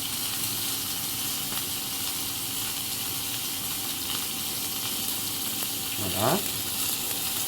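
Lardons, small bacon pieces, frying in a pan, making a steady hissing sizzle throughout, with a brief spoken word from a person near the end.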